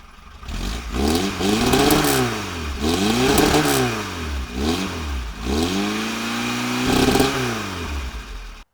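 A car engine with a newly fitted exhaust revs up and down repeatedly, four or five throaty surges through a loud, rumbling exhaust, close by.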